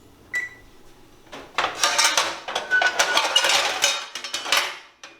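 A metal cookie sheet for taco shells is handled with a few clanks, then a stretch of rattling, scraping and clinking metal, close and fairly loud, with no speech.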